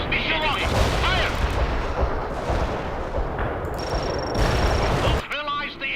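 Machine gun bursts and heavy artillery booms from the World in Conflict battle game, dense and continuous fire close up, with radio-style voices speaking over the combat at the start and end.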